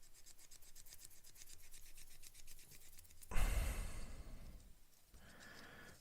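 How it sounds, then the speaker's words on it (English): A sanding stick rubs along plastic model-kit parts for a HobbyBoss heavy equipment transporter, smoothing file marks with a steady, close, rhythmic rasp, then a louder burst of scrubbing and a brief pause before quieter strokes resume; no speech. "you can come in with a sand and stick just to polish up any file marks"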